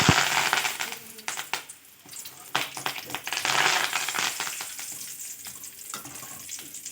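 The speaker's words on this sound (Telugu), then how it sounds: "మనం కొంచెం కరివేపాకును కూడా వేయించుకుని దీంట్లోకి వేసేసుకుంటాము" Curry leaves crackle and sizzle loudly in hot oil for a poha mixture, with busy spattering pops and stirring scrapes throughout, heard close and alone.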